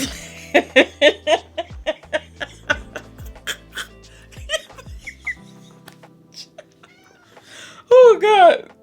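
A string of short cat meows in a quick, uneven series, followed after a pause by a louder, longer drawn-out meow close by.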